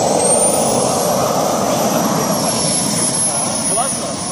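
Yak-130 jet trainer roaring loudly and steadily at close range as it takes off, a continuous broadband engine roar with a high whine that stays strong throughout, while excited onlookers talk over it.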